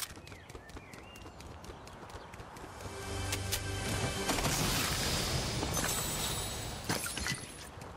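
A player runs in Fortnite, leaving a quick, rhythmic patter of footsteps at moderate distance that builds louder midway, with a sharp crashing hit near the end.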